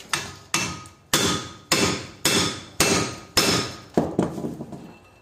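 A hammer strikes a Yato impact screwdriver to loosen a screw, seven sharp, loud metallic blows spaced about half a second apart, each ringing briefly before the next, with a quicker, fainter rattle at the end.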